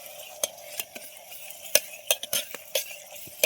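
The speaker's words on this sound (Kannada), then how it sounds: "ಹಸಿ ವಾಸನೆ ಹೋಗೋವರೆಗೂ ನಾವು ಇದನ್ನು ಫ್ರೈ ಮಾಡ್ಕೋಬೇಕು." Tomato and chili masala is stirred and fried in oil, with a soft sizzle underneath irregular scraping and tapping strokes of a spoon against the pan, fairly quiet and close.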